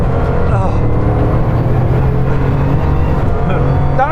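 Bugatti Chiron Pur Sport accelerating hard on a race circuit, a loud, continuous engine roar that stays steady throughout, with cabin resonance and a voice talking over it.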